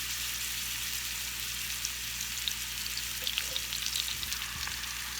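A Cajun blackened salmon fillet, just flipped over, fries in a pan with thyme, giving a steady, even sizzling hiss that stays constant and fairly close, with no talking.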